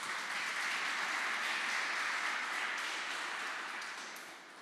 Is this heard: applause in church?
yes